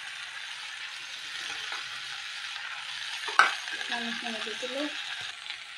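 Rajma and paneer masala fry in a pan with a soft, low sizzle, broken by a sharp metallic clink of a utensil partway through; a voice speaks briefly near the end.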